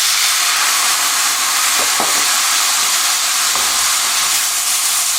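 White wine poured into a hot pan to deglaze after sautéing chanterelles for rabbit chasseur, giving a loud, steady hiss of sizzling steam throughout.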